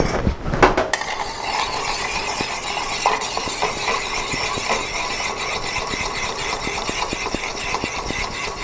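A bar spoon stirs a Hanky Panky cocktail in a mixing glass, giving a steady run of light clinks and scrapes at close range over a low background hum, with no talking.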